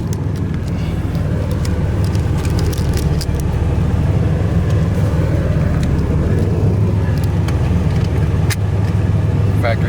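A 1987 Buick Grand National's engine runs at a steady idle, a loud constant low rumble that never changes, with someone talking over it.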